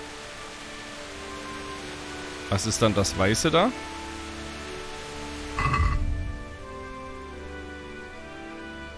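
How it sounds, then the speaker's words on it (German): Steady rain in the video game Kingdom Come Deliverance forms a soft, even hiss throughout, while someone speaks German over it in two short bursts. "Ich hätte gern nicht so viel Regen."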